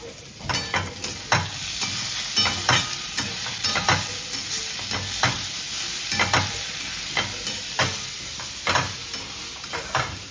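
Tomatoes roasting in a pan for a pressure-cooker chicken curry, a steady close sizzle broken by regular scraping stirs about once a second.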